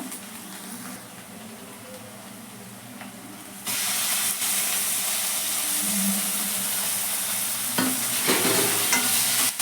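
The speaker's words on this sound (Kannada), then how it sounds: "ಟೊಮ್ಯಾಟೊನ ಸೇರಿಸಿದ್ದಾಗಿದೆ. ಸ್ವಲ್ಪ ಫ್ರೈ ಆಗಿಸೋಣ." Onion and tomato frying in a pan: a moderate sizzle that suddenly swells into a loud, bright hiss midway as the tomato hits the oil, with occasional spatula scrapes.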